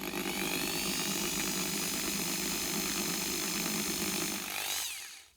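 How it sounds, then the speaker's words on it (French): Electric drill boring holes in a plastic cup, a continuous high whirring drone, loud and close, winding down at the end. "plus qu'à percer les trous maintenant"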